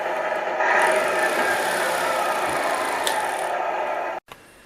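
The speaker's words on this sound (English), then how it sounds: "Now we can rev up our engine while it's in neutral" A Tamiya MFC multi-function control unit in an RC truck plays a simulated engine sound revving in neutral, a steady electronic drone from a small speaker that runs for about four seconds and then cuts off abruptly.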